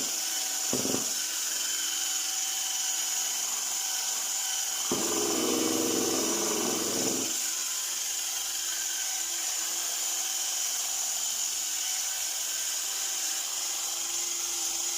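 Power drill fitted with a cleaning brush scrubs tile grout joints at high speed, a steady whirring hum with a short, louder burst of abrasive scrubbing partway through.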